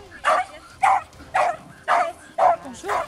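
A pair of sociable Jack Russell terriers barking in sharp, evenly spaced yips, about six barks in three seconds, close and loud with no talk.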